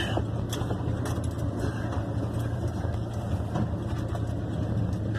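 A 1972 Ford F100 pickup with a tuning problem drives along, its engine a steady, moderately loud low drone heard from inside the cab.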